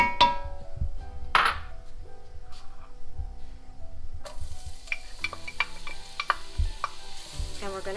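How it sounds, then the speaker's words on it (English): Chopped onion hits hot oil in a soup pot, giving a soft continuous sizzle with clinks of a utensil stirring against the metal. "we're going to heat up the oil and we're going to put"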